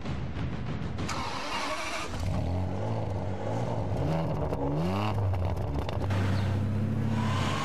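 A Ferrari Superamerica V12 engine roars loudly as the car accelerates, its pitch climbing through several rising revs and shifting, with a brief lift around the middle before pulling hard again, heard alone and close.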